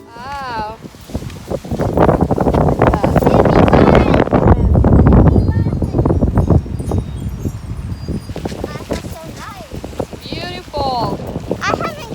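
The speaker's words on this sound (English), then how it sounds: "It's windy again." Gusty wind blows outdoors, buffeting loudly in heavy roaring surges that rise and fall, while people talk intermittently over it.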